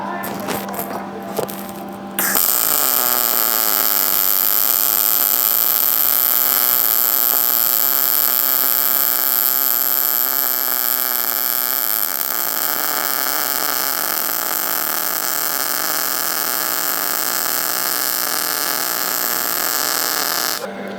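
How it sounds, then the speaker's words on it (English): MIG welding on 1/8 inch mild steel with .030 wire, a steady loud crackling hiss that starts after a brief pause and holds continuously for about eighteen seconds. "Let's get welding."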